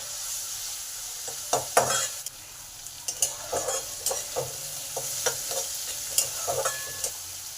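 Sliced onions frying in fish oil in a pan with salt, a steady soft sizzle under repeated scraping and clinking stirs of a utensil against the cookware, close and without speech.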